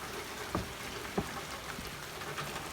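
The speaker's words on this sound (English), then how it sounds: "As you can see, it's raining right now." Steady rain falling on a farm, a soft continuous hiss across the whole stretch with a few brief louder drips or taps standing out, heard alone with no voices.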